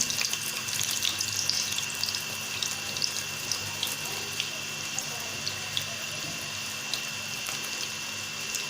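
Meat pieces for a fried steam roast are dropped one after another into hot oil over a medium flame, giving a steady, close, dense sizzling hiss that runs throughout with no talk.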